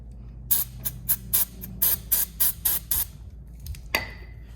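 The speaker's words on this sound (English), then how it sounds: "You can spray this with a contact cleaner to clean it up really good." Contact cleaner sprayed on a Suzuki DRZ400SM oil filter housing during an oil change: about ten short, close hissing bursts in an uneven rhythm, with a final longer spray trailing off.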